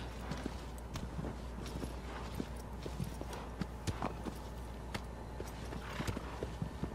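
Horse hooves in the video game Shadow of the Colossus clip-clop in a steady, repeated walking rhythm, fairly quiet and close, with a low ambient hum underneath and no talking.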